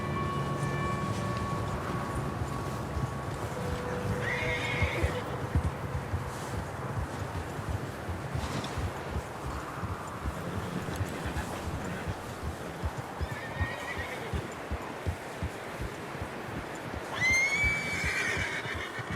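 Horses in Red Dead Redemption 2 whinny a few times over soft hoof clops and wind, with one loud, close neigh near the end and faint talk in the background.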